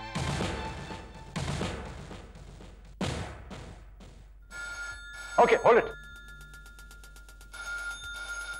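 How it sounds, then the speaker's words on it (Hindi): Telephones in a TV drama ring in repeated bursts from an office scene, a shrill electronic bell sounding several times between short spoken exchanges. "कोई फोन नहीं उठाएगा, हम सब एक साथ फोन उठाएंगे।"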